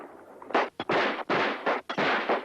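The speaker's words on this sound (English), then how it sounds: "Gunshots." Several loud gunshots burst in quick, uneven succession, each a sharp crack with a short rumbling tail, close and punchy like a film action scene.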